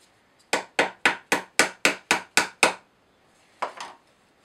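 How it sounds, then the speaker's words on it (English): A small hammer taps the wooden pieces of a UGears hurdy-gurdy kit into place in nine quick, evenly spaced, crisp knocks, then two more after a short pause, close and clear with no talk. "A little hammer, which is just what I need to put these pieces"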